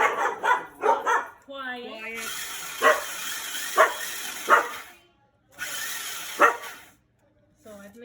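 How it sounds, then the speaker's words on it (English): Several dogs bark in short sharp bursts over a loud whirring food processor that is grinding Ritz crackers into fine crumbs in a home kitchen, with speech mixed in and brief pauses between the bursts. "I've managed to set the dogs crazy."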